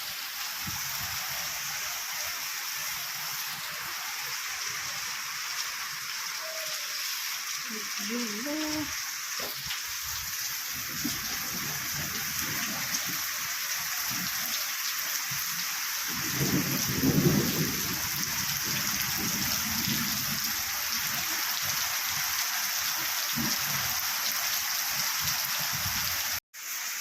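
Heavy rain pours steadily on a roof, a continuous dense hiss. Low rumbles of thunder roll in partway through, and a brief bit of speech comes near the end.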